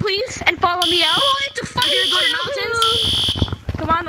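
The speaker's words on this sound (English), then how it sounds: "fire alarm!" A shrill electronic fire alarm in the video game Gorilla Tag blares in repeated pulses beneath excited, overlapping voices talking loudly.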